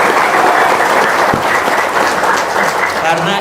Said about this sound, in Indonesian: Yang kencang tepuk tangannya.